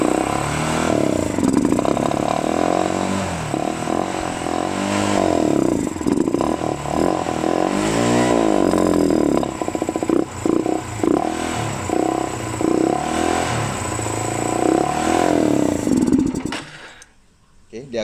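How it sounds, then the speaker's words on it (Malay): A SYM VF3i motorcycle engine runs and revs close by during throttle body cleaning, with rising and falling revs and mechanical clatter, someone talking over it until it cuts out near the end. "kalau hampa tengok saya boleh hidupkan motor kita, dan kita perlu ref dulu"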